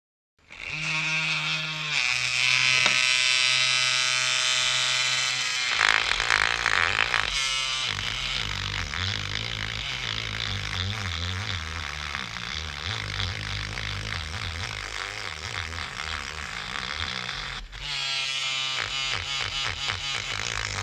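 A mini power tool driven by a small DC motor spins a wire brush, a loud steady buzzing whine that starts abruptly, shifts pitch as it loads and briefly cuts out before resuming.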